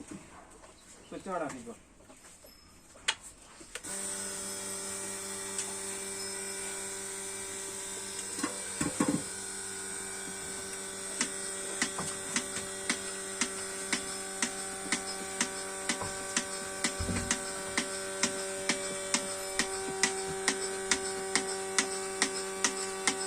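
Electric cow milking machine running in a barn, a steady mechanical drone with rhythmic pulsing clicks repeating about once a second, starting abruptly and continuing throughout, with a hen clucking early on.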